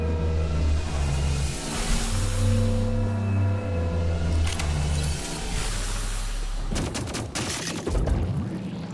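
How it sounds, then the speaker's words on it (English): Enemy gunfire in the video game Dolmen: Prime Matter, several sharp shots and bursts over a droning game soundscape, with a cluster of loud blasts near the end. "they can also shoot from afar"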